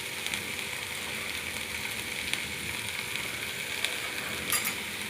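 Vegetables fry in a pan with salt, turmeric, coriander and cumin powder while being mixed, a steady low sizzle with a few light scraping clicks of the spoon, close and even, with no voices.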